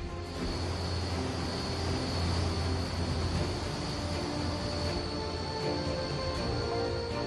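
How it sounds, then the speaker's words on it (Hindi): An Air Force AN-32 transport plane lands on a highway, heard as a loud, continuous, unbroken engine roar with no voices over it. "इसके बाद कमांडोज को लेकर एयरफोर्स का ट्रांसपोर्ट प्लेन AN-32 हाईवे पर उतरा।"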